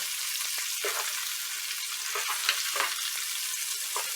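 Shrimp fry in a hot pan with a steady, dense sizzle and crackle, with a few faint stirring scrapes and clicks close by and no talking.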